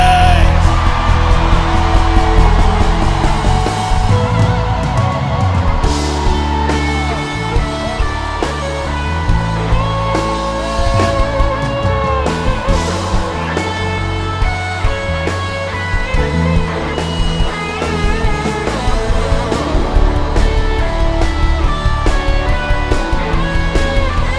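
A church congregation shouts and yells together in loud, sustained collective cries of victory and deliverance, a dense crowd roar with music underneath running continuously throughout.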